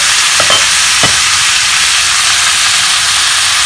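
Cabbage sautés in a pan with salt and pepper, a loud constant hiss of frying with a couple of faint stirring knocks early on and no voices.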